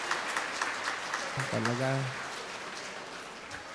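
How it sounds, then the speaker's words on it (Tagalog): A church congregation applauds in a steady, dense patter that fills the space, while a preacher's voice briefly speaks over it midway. "Pumalakpak ng malakas."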